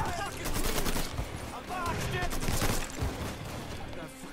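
Gunfire in the video game Mafia 3, with rapid bursts of shots crackling over several seconds, loud and close, while voices shout over the fighting.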